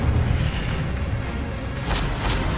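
A fiery explosion from the Incendio spell in Hogwarts Legacy: a dense, loud roaring burst that fills the whole moment, then a brighter crackling flare toward the end.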